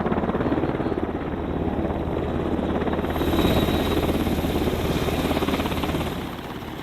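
A Black Hawk helicopter's rotor thumps and turbine whine fill the air continuously, loud and close, with a steady pulsing chop throughout.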